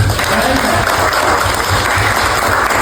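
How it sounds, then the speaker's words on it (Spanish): Loud, dense applause from an audience at a Cuban exile community gathering, steady clapping filling the space for a few seconds with crowd murmur underneath. "Un aplauso grande."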